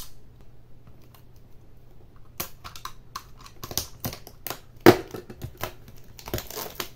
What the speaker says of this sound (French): Et puis on va ouvrir du coup le papier transparent.